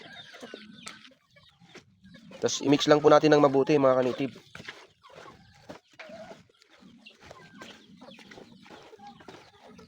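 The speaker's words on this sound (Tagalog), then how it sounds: "nagugutom na itong ating mga manok mga kaniti." Hungry native chickens cluck loudly for a couple of seconds in a burst of overlapping calls, with a person talking quietly before and after.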